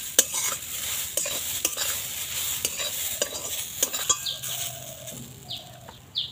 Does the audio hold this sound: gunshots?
no